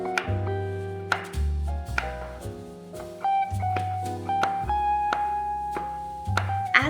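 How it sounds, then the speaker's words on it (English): A knife chops green and red chilies on a cutting board, a series of sharp, irregular taps partly buried under louder background music. "Now chop some green and red chilies."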